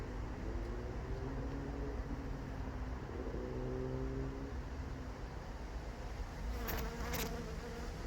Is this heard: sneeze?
no